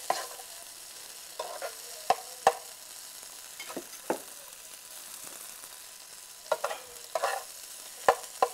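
Carrots and broccoli sauteing in a skillet with scallion and cilantro: a soft continuous sizzle broken by sharp, irregular utensil scrapes and stirring knocks at close range.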